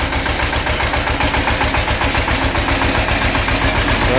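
An Agri Globe 180 1105 mini tractor engine runs steadily nearby, a loud, even, rapid diesel chug without pause.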